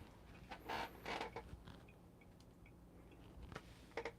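Option O P64 coffee grinder with a Mizen burr running at a slow 220 RPM: quiet creaking and crunching bursts over a low, steady mechanical hum, with no talking.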